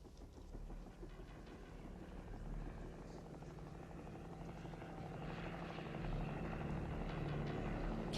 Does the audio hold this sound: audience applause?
no